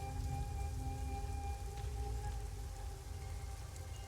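Steady rain patter from the MTG Arena video game's weather effect, a continuous hiss with low rumble and faint tonal hum throughout, no voices.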